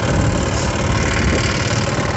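A Toyama 3.3 HP diesel engine idles close by, a loud, steady rumbling chug with a continuous knocking vibration and no voices.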